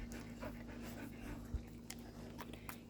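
A dog pants softly in quick, steady breaths indoors, faint and close, over a low background hum with no talking.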